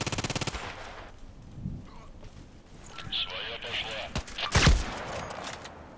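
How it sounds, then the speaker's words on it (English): Gunfire in the video game Contract Wars: a rapid automatic burst opens, followed by scattered single shots and a louder crack near the end, with game noise and a talking voice in between. "He just shot at me."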